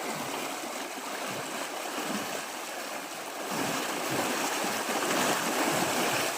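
A roadside stream of naturally flowing water rushes steadily nearby, a continuous loud wash and gurgle that swells slightly louder partway through, with no voices.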